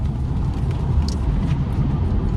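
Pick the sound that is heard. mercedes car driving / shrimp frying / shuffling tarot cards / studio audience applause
mercedes car driving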